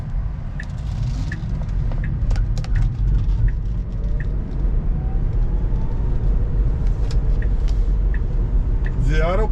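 A 2018 Tesla Model 3 Long Range rolls into a parking lot, a steady low road rumble and tyre noise inside the cabin, with faint chimes and ticks, under a person talking.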